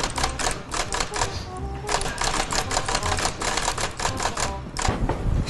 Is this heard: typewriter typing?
yes